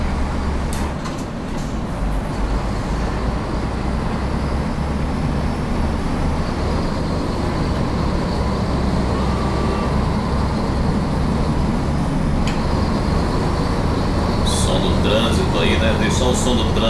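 Steady road traffic rumble in the truck-driving game Euro Truck Simulator 2 on Brazilian routes, a continuous low engine and tyre drone with occasional brief clicks and higher bursts near the end.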